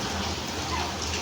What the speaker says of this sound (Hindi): कितना अच्छा बारिश का पानी